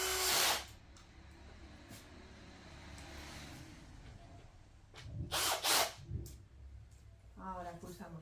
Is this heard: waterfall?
no